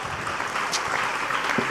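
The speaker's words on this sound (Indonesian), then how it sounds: "tepuk tangan untuk Pak Bupati." Audience applause after a greeting to a regent at an Indonesian religious talk: dense, steady clapping from a crowd, continuous and fairly loud for the whole short stretch.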